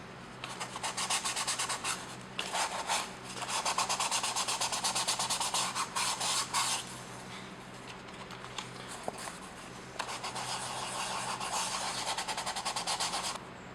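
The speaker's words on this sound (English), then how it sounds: "I went through with my 400 grit sandpaper and wet sanded all this down, and now it's really smooth." Wet sanding of craft foam armor with 400 grit sandpaper, a soft steady rubbing rasp in several long strokes with brief pauses between, close and moderately quiet, no talking.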